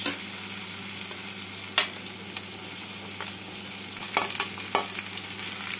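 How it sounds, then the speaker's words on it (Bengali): Okra frying in a pan with potatoes and onions, a steady soft sizzle broken by a few sharp scrapes and stirring clatters, close by with no talk. "আলুগুলোকে হালকা করে ভেজে নিয়ে এর মধ্যে এবার দিয়ে দিচ্ছি ঢেঁড়স"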